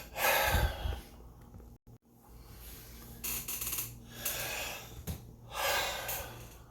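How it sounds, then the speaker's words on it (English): Slow, deep breaths drawn in and pushed out close to the microphone, several loud breathy inhales and exhales with short pauses between them, no talking. "take some more deep breaths"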